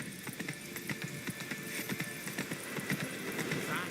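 Hooves of Roach, a horse in the video game Witcher 3, clop in a quick, even galloping rhythm, with dense repeated hits close up over a soft background.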